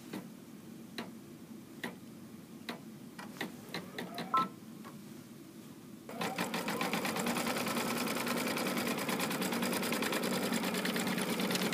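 A Brother embroidery machine sews a tack down stitch: a few isolated ticks and clicks, then a steady, rapid, close mechanical stitching rhythm that continues alone.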